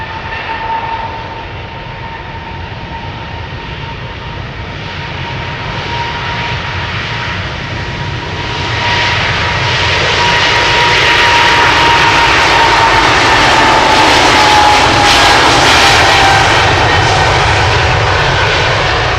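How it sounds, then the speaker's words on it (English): A KLM Boeing 777-300, 11 years old and bound for Lima, takes off from Amsterdam Schiphol Airport: a steady whining hum grows into a heavy, loud engine roar that peaks near the end, with no voices. "777-300 right now. Going to Lima in Peru."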